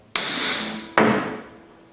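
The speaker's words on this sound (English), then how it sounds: "Put the rivet set on it. One good blow." Two sharp, loud hammer blows on a rivet set, riveting an E.H. Scott Philharmonic radio chassis, each a ringing metallic strike that decays slowly, about a second apart, with no talk.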